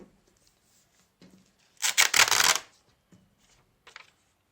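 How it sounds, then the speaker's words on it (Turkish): Paper strips being taped for handmade recycled paper earrings: a short burst of tape pulled and pressed onto paper, crackling and rustling for under a second, close and otherwise quiet. "Şu şekilde bantlıyorum bunları."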